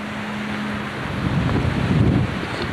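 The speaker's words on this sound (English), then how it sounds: "It's very windy" Strong wind at Coober Pedy buffets the microphone in a constant roaring rush, growing slightly louder midway, with no voices.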